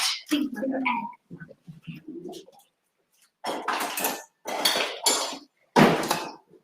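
Beaten egg is mixed in a bowl with a utensil, giving bursts of clinking and scraping against the dish in uneven strokes, close and fairly loud, with brief pauses between.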